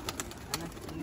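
Kept pigeons coo softly and briefly, with a few short bird calls close by and voices of people talking underneath.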